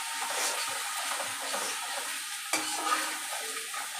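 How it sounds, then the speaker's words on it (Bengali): Coriander powder is stirred into spices frying in a pan, giving a steady close sizzle with soft scraping strokes and a sharper clack partway through, with no talk. "একদম কোয়ান্টিটি কম দিয়ে নাড়াচাড়া করে দেবো"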